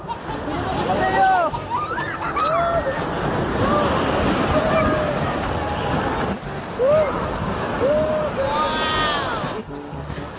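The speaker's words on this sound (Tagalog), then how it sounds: "Grabe, sobrang lakas ng alon." Strong artificial waves surge in an outdoor wave pool, a continuous loud rush of surf with wind buffeting the microphone, while a crowd of swimmers shouts and squeals over the water.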